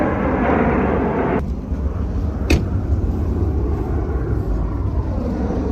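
An airplane passes over a London street, a steady broad engine roar that stays loud throughout, with a sharp click partway through.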